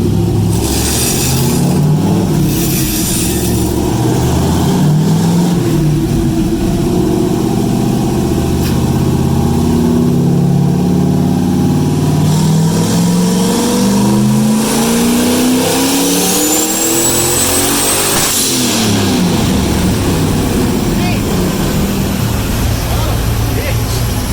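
Car engine on a dyno during a boost-tuning pull, a loud sustained run with revs climbing steadily, a high whistle near the top, then dropping off, with people talking beneath the engine noise.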